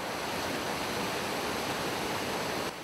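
Water from the Mutobo River rushes steadily near a small hydroelectric plant in rural Rwanda, a dense, even hiss of flow with no voices.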